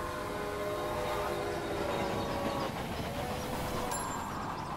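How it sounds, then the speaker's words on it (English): A train passing in the railway management video game Railway Empire, a steady loud rumble of rolling stock with sustained tonal whine and a brief high whistle near the end, heard alone. "That train there just whizzing straight through."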